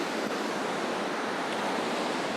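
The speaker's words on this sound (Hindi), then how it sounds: "यहाँ लहरों का आना और लहरों का जाना और आपका इन रेत पर चलना एक अलग सा एहसास दिलाता है" Sea waves washing onto the sand at Suryalanka Beach in Andhra Pradesh, heard as a steady, broad, hissing roar of surf with no voices and no clear breaks between the waves.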